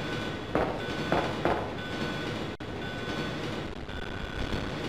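A train runs in Resident Evil 2, rigged to detonate: a steady, loud rolling rumble with a few clacking wheel thumps early on and one sharp jolt midway.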